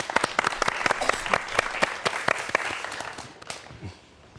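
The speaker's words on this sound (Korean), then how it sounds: "여러분 박수 한번 부탁드리겠습니다" Audience applause at a lecture on transforming robots and drones: many close, crisp claps that ring out loudly, then thin and fade away toward the end.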